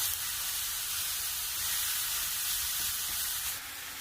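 Shredded cabbage and carrot sizzle steadily in a hot pan, a continuous loud frying hiss with a slight drop in intensity near the end.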